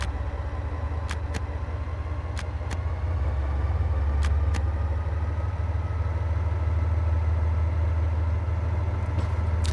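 Diesel engine of a BR 363 shunting locomotive in Train Sim World 2 runs with a steady low rumble that swells slightly after a few seconds, while faint clicks tick over the drone throughout.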